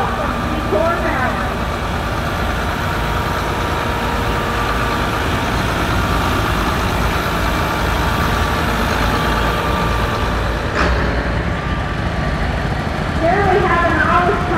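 An Allis Chalmers tractor engine rumbles steadily at a tractor parade, a constant low mechanical drone throughout with faint voices in the background.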